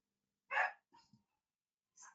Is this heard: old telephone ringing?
no